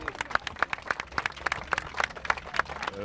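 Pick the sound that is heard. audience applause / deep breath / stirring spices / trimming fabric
audience applause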